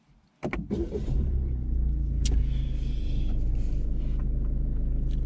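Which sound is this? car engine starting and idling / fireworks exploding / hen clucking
car engine starting and idling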